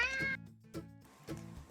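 A cat being introduced to the outdoors meows three times in a row: a long, loud, close first call, then two shorter meows with brief pauses between, and no talking.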